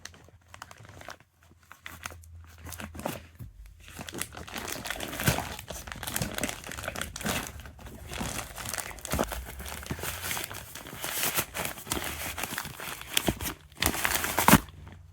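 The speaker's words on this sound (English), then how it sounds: "So I'll start this by cutting it with this knife" A knife slices and tears into a Temu shipping package, producing a long stretch of crinkling plastic, ripping and crunching with irregular bursts and short pauses, close and fairly loud.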